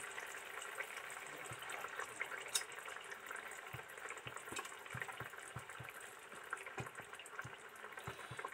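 Fried duck eggs dropped one by one into simmering curry gravy in a pan on a lowered flame, giving a faint, steady sizzle and bubble with a few soft knocks.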